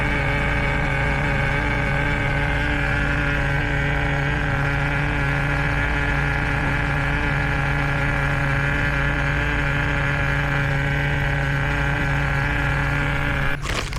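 The nitro engine of a 1990 Kyosho Madcrusher USA-1 RC truck runs during break-in with a loud, steady, buzzing whine that holds at a constant pitch, close by and uninterrupted.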